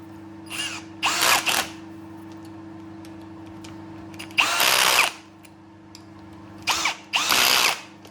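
A power tool tightens bolts on a 3-jaw chuck for a milling machine, in three separate bursts of whirring and rattling. Each is short and loud, with a steady low hum running underneath.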